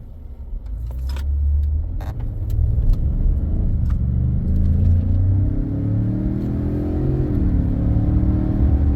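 Engine of a 2017 Ford F150 pickup on a test drive, pulling away with a rising, smooth rev and steady loud rumble, a few light rattles early on.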